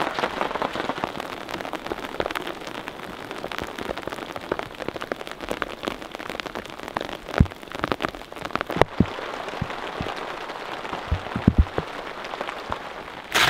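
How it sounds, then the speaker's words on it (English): Rain falling on a tent and camp gear on a trail outing, a dense steady patter of drops with sharper louder taps scattered through it, close by and with no talking. "Let's get out of this rain."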